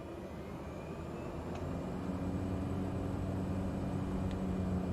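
The turboprop engine of a Cessna 208B Grand Caravan in Flight Simulator 2020 runs at full power as a steady, loud, droning hum with a low tonal whine that swells slightly and then holds, with no voices.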